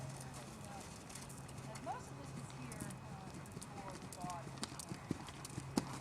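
A horse cantering under a rider in a dressage schooling session, hooves clip-clopping in a steady rolling rhythm beneath a low hum, with a trainer's voice speaking over it.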